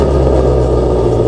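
A Ford car's engine in the Driving Empire racing game drones at a steady loud idle-to-rev, a dense low rumble with no clear rise in pitch across the brief stretch.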